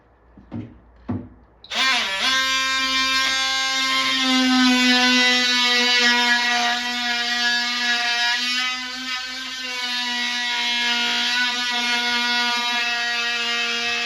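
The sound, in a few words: power drill drilling holes in wood pieces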